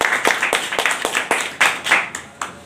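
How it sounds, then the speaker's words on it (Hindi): Sharp, separate handclaps from a small group at a sales meeting, about a dozen loud close claps in a loose, uneven rhythm. "आपके लिए भी जोरदार ताली होनी चाहिए भाई"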